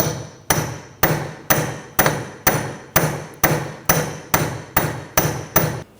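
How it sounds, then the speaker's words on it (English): A hammer strikes a punch to knock the axle free from the rear hub of a 2013-2019 Ford Escape, eleven sharp metallic taps in an even, steady rhythm, close and clear with no talk. "Now you just want to take a punch and just tap this so the axle is free from the"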